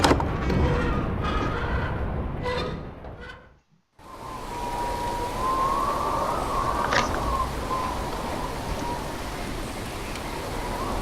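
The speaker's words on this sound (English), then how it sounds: "The rain and the wind are so loud." In a video game scene, a storm brings a steady wash of pounding rain and a howling wind that rises into a long tonal moan. Both are broken by a brief near-silent gap, and no one speaks.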